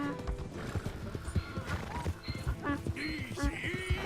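A horse in the Red Dead Redemption 2 video game neighs loudly and whinnies while hooves clip-clop in an uneven rhythm, with a voice breaking in over the game sounds.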